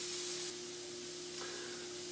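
A blue cheese stuffed hamburger patty sizzles in a frying pan on a stovetop, giving a soft, steady hiss over a faint hum, with no voices.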